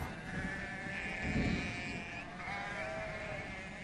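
A flock of sheep and young lambs in the Caucasus bleats continuously, several overlapping calls near and far, with no talking.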